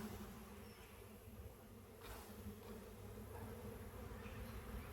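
Disturbed honey bees at an open hive, a dense, steady buzzing drone from many insects close to the microphone, continuous throughout without speech.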